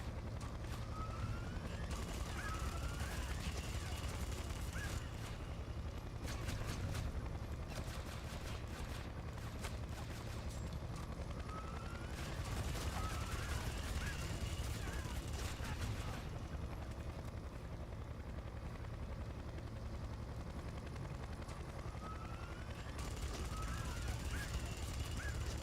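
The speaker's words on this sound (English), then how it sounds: "I'm taking fire from that chopper." An attack helicopter in the Splinter Cell video game lays down gunfire, its constant loud rotor drone underneath bursts of rapid firing that keep recurring throughout. A voice talks over the action.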